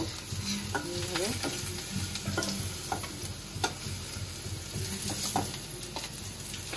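Pointed gourd (potol) frying in a pan, giving a steady close sizzle throughout, with repeated scraping and stirring strokes from a spatula and occasional sharp ticks.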